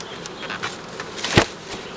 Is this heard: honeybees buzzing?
yes